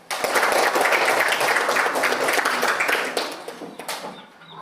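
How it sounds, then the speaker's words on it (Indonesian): A classroom of children claps in a dense burst of applause that swells loud and steady, then thins into scattered claps and fades. "Kasih aplaus dulu."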